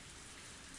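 Sudden rain pours steadily on surfaces, a dense, even hiss with drops pattering close by and no thunder or voices.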